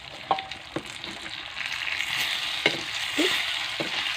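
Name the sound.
curry leaves frying in hot oil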